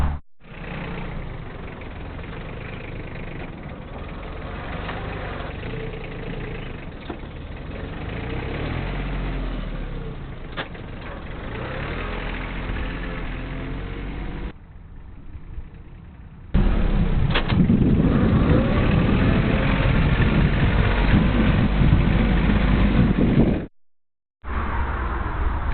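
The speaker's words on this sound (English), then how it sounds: "So we'll go ahead and get the tractor and start spreading this on the field." A farm tractor engine runs steadily while spreading compost mixed with wood and sawdust on a field, a continuous low rumble that grows louder partway through, then cuts out briefly near the end.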